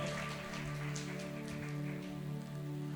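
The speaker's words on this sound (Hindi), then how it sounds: "कितने दिन बारिश हो जाएगी?" Steady rain falls on a surface, a continuous even patter of drops under a low background hum, with no talk.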